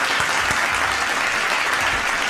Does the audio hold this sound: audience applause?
yes